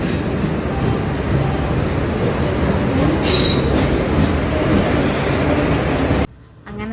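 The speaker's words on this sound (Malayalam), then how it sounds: "5:15 ഗുരുവായൂർ ചെന്നൈ എഗ്മൂർ എക്സ്പ്രസ് ആണ്." The Guruvayur–Chennai Egmore Express rolls along in a loud, continuous roar of rushing wheels and rail noise, with brief squeals, heard up close until it cuts off abruptly near the end.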